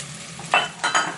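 Chopped onions and garlic dropping into hot olive oil in a pan, giving two quick bursts of sizzle and stirring over a low hiss, close and brief, with no talking.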